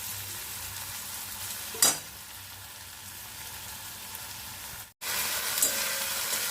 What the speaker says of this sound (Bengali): এইদিকে দেখো মশলাটা খুব ভালোভাবে কষিয়ে নিচ্ছি